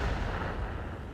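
A tank gun firing premium rounds in World of Tanks, caught as a single deep, heavy rumbling report that fills the whole moment and decays slowly, loud and close with no voices.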